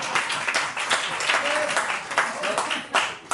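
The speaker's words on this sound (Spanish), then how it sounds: "¡Otro aplauso, por favor!" An audience claps steadily through a science talk in a bar, a dense wash of hand claps with a few voices mixed in close by.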